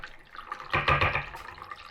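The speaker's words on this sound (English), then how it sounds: "And we will also add the evaporated milk." Evaporated milk is poured into a mixture for leche flan, giving a short, close liquid gush that swells for about half a second and then tapers into soft trickling.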